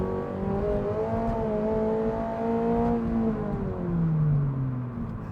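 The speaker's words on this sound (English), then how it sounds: "Hold on, I'm gonna hit the gas for a second." A car engine revs as the driver presses the gas, rising in pitch over several seconds then dropping and rising again, loud and close from inside the cabin with a prominent exhaust note and no talking.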